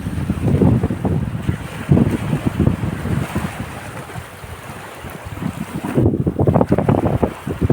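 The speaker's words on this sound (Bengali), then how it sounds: "এই হচ্ছে সাগর" Wind buffets the microphone on a seaside tourist beach in Italy, with gusty roaring surges and the wash of waves rising and falling over several seconds, then a short calmer lull.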